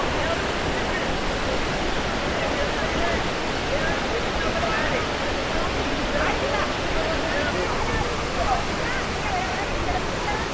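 Kappimala waterfall pours in a steady, loud, unbroken roar of falling water, with faint voices of visitors murmuring beneath the rush.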